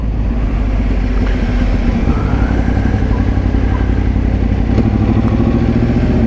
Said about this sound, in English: Absolutely love the twin undertail exhaust look. It's fantastic, and it sounds pretty bloody good too.